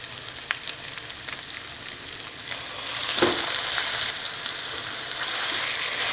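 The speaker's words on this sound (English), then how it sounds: "I'm going to plop in about 1 pound of lean ground beef." Lean ground beef sizzles in a pan with translucent, caramelized onion and garlic, a steady close frying crackle that grows a little louder as the meat goes in.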